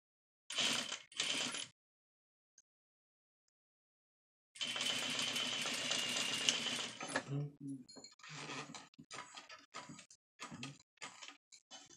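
A sewing machine stitches a fabric bonnet in short close bursts, first two quick runs, then a long steady whirring run followed by several brief stop-start stitches.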